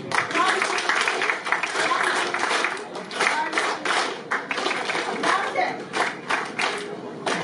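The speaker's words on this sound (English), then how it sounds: "Let's clap." A workshop group clapping together in a counted one-two-three rhythm, loud and close, with bursts of hand claps repeating steadily in a regular pattern throughout.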